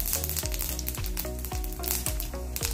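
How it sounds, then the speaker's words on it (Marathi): Mustard seeds crackle and pop in two tablespoons of hot oil in a pan during Marathi cooking, a dense steady sizzle with sharp repeated spits throughout. "आपले तेल छान गरम झाले आहे, त्यात मी आता टाकणार आहे मोहरी"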